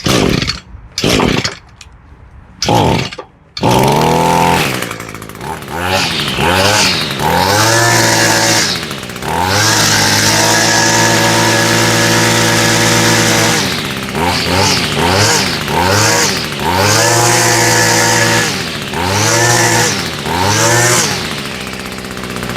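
An Echo SRM210 string trimmer's small two-stroke engine sputters through a few pull-start attempts, then catches and runs loudly, its buzz rising and falling in repeated revs close by.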